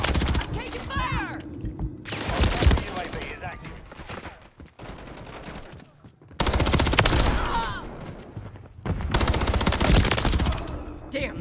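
Bursts of automatic machine gun fire in Call of Duty: Modern Warfare 3 multiplayer, loud and close, coming in several long rattling volleys separated by brief quieter gaps, with game voices mixed in.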